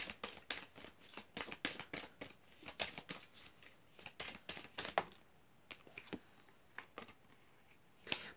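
Tarot-style cards are handled and shuffled for a card reading in a series of quick, crisp riffling snaps and flicks, close and fairly quiet, coming in uneven bursts with short pauses between them.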